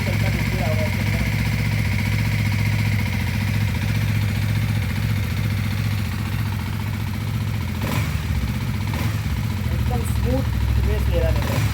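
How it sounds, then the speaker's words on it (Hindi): A Hero Xtreme 250R motorcycle's engine runs just after its first service, a steady close idle with a mid-pitched throb and brief rev swells, while someone talks over it. "प्योर इंजन साउंड आ रहा है।"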